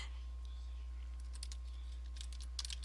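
Typing on a computer keyboard, light scattered key clicks in short bursts, faint and close, over a steady low electrical hum, no voices.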